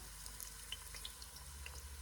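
Pork loin browning in a pan over medium heat gives a quiet, steady sizzle flecked with small crackles and pops, faint and close, with no talking.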